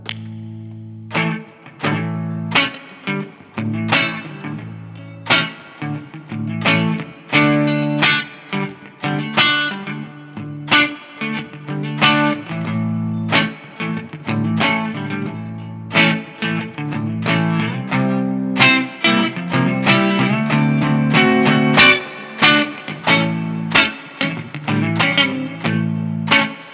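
Electric guitar pushed through an Origin Effects DCX boost pedal set high, busy strummed chords and fast picked runs ringing loud and dense throughout, with no voices.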